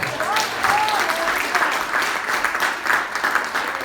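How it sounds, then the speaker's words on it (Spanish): Church congregation at a Father's Day service applauds together in a steady, dense wash of clapping, with a few voices calling out over it. "Le damos un aplauso al Señor."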